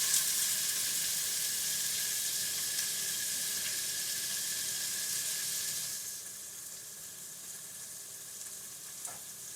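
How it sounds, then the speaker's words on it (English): Frankfurters sizzle on a grill with a steady, loud hiss that suddenly drops to a quieter crackle partway through, with a faint knock near the end. "You can hear the sizzle."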